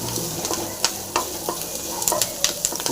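Coriander and curry leaves frying in a pan for kollu sundal, a bright continuous sizzle broken by a few sharp stirring scrapes and taps, close and steady.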